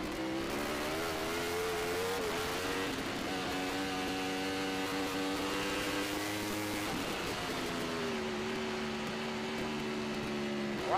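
AFM Formula Pacific racing motorcycles lap a track, their high engine whines rising and falling in pitch as bikes run through the corners. The loud, layered revving goes on throughout without speech.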